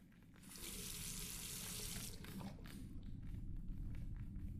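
Running water from a tap rinsing a plate in a horror video game, a steady close hiss of flow that splashes and shifts as the plate is moved under it, with no voices.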